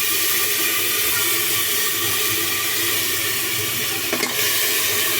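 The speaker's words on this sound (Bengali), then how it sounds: "এখন আমরা গোস্তটা বেরেস্তার মধ্যে ঢেলে দেব। দেখুন আমরা গোস্ত ঢেলে দিচ্ছি।" Marinated beef hits hot fried onions in a pot for beef tehari, setting off a loud, dense, continuous sizzle and steamy hiss that holds steady throughout.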